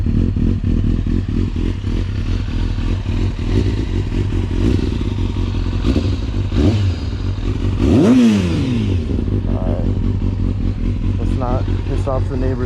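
A 2000 Kawasaki ZX6R engine running straight through a slip-on exhaust with no catalytic converter, idling loud and close with a steady throb before a sharp rev that swells and falls back around the eighth second.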